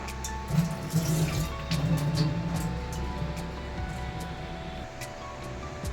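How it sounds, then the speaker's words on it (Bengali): Soaking water drained off rice that has soaked for 15 minutes, a steady close pour and trickle of water alone with no talk. "চালটা আমি 15 মিনিট ভিজিয়ে রেখেছিলাম, এবার আমি জলটা ছেঁকে নেব।"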